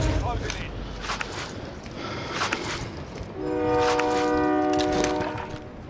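A train passes in a battle royale shooter game, rumbling steadily close by, then sounding a long, loud horn blast for a couple of seconds, with voices over it.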